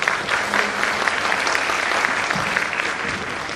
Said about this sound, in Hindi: तालियों के साथ उनका स्वागत करें